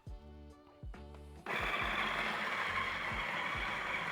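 A coffee grinder starts up and grinds frozen coffee beans, a steady loud whirring grind after a few short starts, with low rhythmic thumps underneath.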